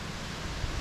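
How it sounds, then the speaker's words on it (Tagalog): Wind blowing across an open rice field during fertilizer application, a brief steady broadband rush with low buffeting gusts against the microphone. "ang hangin po din eh"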